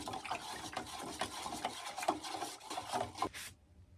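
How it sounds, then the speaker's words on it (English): Golden oak wood stain stirred in a can, giving a rough scraping, rasping rub with irregular strokes, close and fairly steady, stopping abruptly near the end. "So let's stir the oak a little bit."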